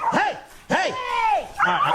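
A dog fighting a raccoon outdoors gives loud, close yelping barks and whimpering cries in quick bursts, with the animals scuffling.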